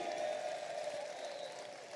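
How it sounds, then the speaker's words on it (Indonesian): Steady crowd applause, a dense wash of clapping at moderate volume that holds evenly throughout without any voices standing out. "tepuk tangan nih"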